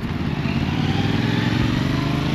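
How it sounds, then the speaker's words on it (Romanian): Motorcycle passing on a town street, a loud, steady engine drone with a low growling rumble that holds at close range for the whole short stretch, with no talk over it. "Ce fain e motociclist."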